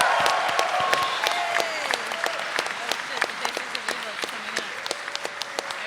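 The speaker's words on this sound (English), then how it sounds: "Let's all give them a huge round of applause." Dense audience applause with cheering and whoops fills a convention panel room for the cast of Power Rangers Turbo and In Space, a steady wash of clapping with sharp individual claps standing out, loud and sustained throughout.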